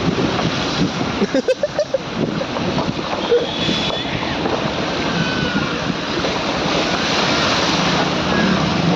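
A car driving through a flooded road in heavy rain in Pune, water rushing and splashing steadily under the vehicle amid rumbling wind noise, with a brief thumping burst early on.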